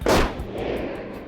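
A single gunshot sound effect cracks loudly at the start, then its long rumbling echo slowly fades, with no voices.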